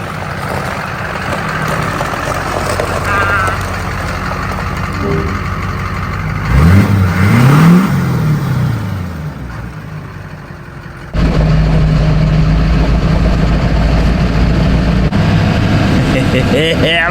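Restored 20-year-old rusty Duramax diesel truck with new exhaust, shifting from reverse to forward and driving off, a deep steady engine rumble that revs up briefly and then settles louder, with people talking over it.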